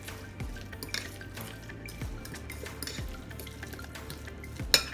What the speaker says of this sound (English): And mix all of that together.